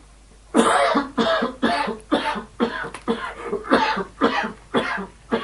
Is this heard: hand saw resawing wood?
no